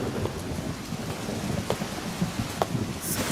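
Steady heavy rain hisses outdoors in a film scene, with dense broadband patter and a few sharper drop or splash bursts, no speech over it.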